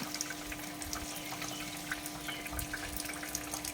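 A household water pump motor runs while filling a home tank fitted with an automatic shut-off, giving a steady close hum with a constant tone under continuous rushing, splashing water.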